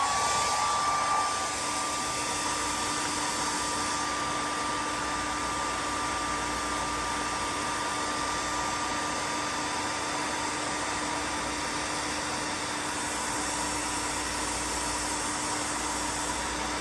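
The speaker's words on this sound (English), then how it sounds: "Time for the hair dryer." A hair dryer blows steadily and loudly throughout, a constant whooshing air noise with a faint tonal whine, used to dry a fuse and flux fidget spinner after its bearing was cleaned with alcohol.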